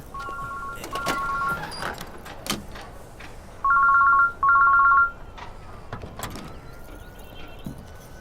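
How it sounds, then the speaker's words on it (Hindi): A mobile phone ringtone rings in two short bursts of electronic tones, clear against room noise, with brief sounds of movement between them. "घंटी जा रही है भाई।"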